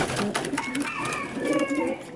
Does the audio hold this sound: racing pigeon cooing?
yes